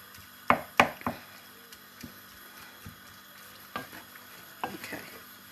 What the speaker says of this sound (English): Just browning in the mince, that's a really important sort of thing